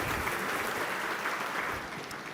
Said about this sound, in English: Please give them a warm round of applause, ladies and gentlemen.